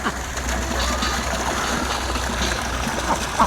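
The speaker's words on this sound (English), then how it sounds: "That turned off. Why is the water still going?" Water keeps running on a farm after the tap is shut, a steady close trickle and gurgling flow with some light splashing throughout, and no talking.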